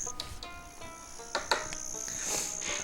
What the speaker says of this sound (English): you notice the sounds of the cicadas are just getting louder and louder and more intense as you walk